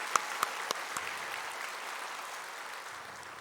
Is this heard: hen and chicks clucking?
no